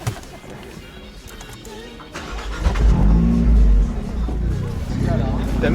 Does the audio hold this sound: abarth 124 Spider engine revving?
yes